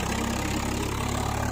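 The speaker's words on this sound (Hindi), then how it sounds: "स्वराज 855 2000 RPM करके चला दिया गया है" A Swraj 855 tractor engine held at 2000 RPM in second gear, a loud, steady diesel drone with a throbbing low pulse, close up and unbroken, no voices.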